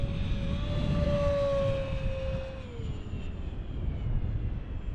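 A Durafly Goblin RC jet screams at full throttle, a steady whining roar whose tone slides downward as it passes overhead, then fades into a softer rush.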